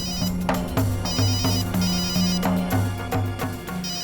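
A mobile phone rings with a steady, repeating electronic melody that is loud and close, heard alone for the whole stretch.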